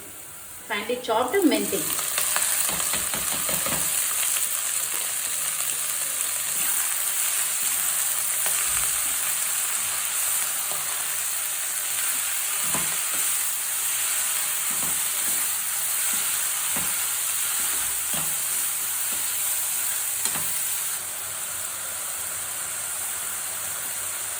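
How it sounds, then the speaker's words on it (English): Finely chopped fenugreek (methi) leaves frying with onions in a pan for a paneer curry make a continuous, even sizzle and hiss, with a burst of stirring at the start and occasional soft utensil knocks. "So now fry this methi leaf until 5 to 7 minutes."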